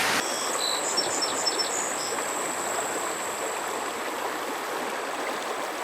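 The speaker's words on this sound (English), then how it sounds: "We're right here at the Blue River" The Blue River in southern Indiana flows with a steady, broad rushing wash that carries on unbroken throughout, with a few faint insect or bird chirps riding over the top early on.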